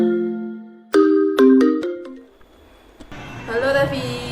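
A phone call ring plays as a melodic electronic ringtone with a few sharp tonal notes, then gives way to a voice answering the call.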